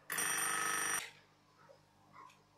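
A telephone rings once in a loud, steady electronic burst lasting about a second, then cuts off, leaving a quiet room with faint background murmur.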